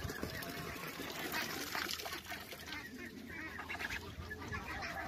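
First-batch geese being raised on a farm make a constant, dense chatter of honks and calls, with the flock close by and no talk over it.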